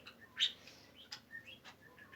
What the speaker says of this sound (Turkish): Bakın ben kuş sesleri geliyor benim kuşlarım.